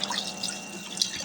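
Free-flowing water runs continuously without a pump, a steady close splashing and trickling wash with small drip-like spikes and no voices.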